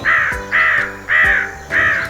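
Crow cawing as a cartoon story sound effect: four loud, harsh caws evenly spaced about half a second apart, close and clear with no talk.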